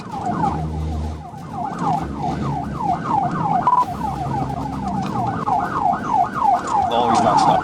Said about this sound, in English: The driver, 50-year-old Michael Jackson, ignored police lights and sirens and continued traveling in the wrong lane despite oncoming traffic.